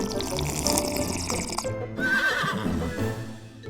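A horse neighs loudly and close, a shrill whinny that drops and trails off, with rustling and watery background noise beneath it.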